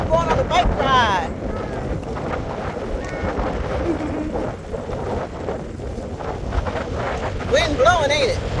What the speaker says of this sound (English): Wind blowing, ain't it?